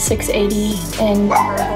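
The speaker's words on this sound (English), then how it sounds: "Sorry for my dog." A dog yips and whines near a person who is speaking, its high pitched barks overlapping her talk in short bursts.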